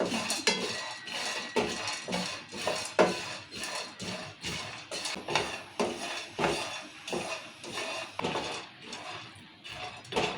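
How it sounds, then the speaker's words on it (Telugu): Peanuts and roasted gram are dry-roasted in a pan for rava laddu, with a rhythmic series of close scraping and clinking stirs from a utensil against the pan, repeating steadily throughout. "పల్లీలు పుట్నాలు వేయించుకోవాలి"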